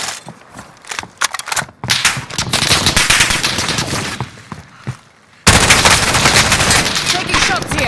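Automatic machine gun fire in Call of Duty: Modern Warfare, sustained bursts with short pauses and a loud, dense stretch near the end, mixed with other game sounds.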